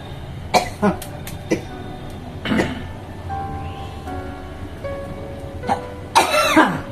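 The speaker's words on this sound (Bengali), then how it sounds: "কাশি হচ্ছে বলো সব" Several sharp coughs in quick bursts, some close and harsh, set off by dry chillies being roasted in a home kitchen, with short quiet gaps and faint voiced sounds between them.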